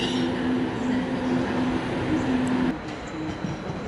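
A G7 locomotive couples onto MAV carriages at Budapest Keleti station, a faint rail rumble with a thin steady squeal, then a soft clunk near the end as the tone drops away.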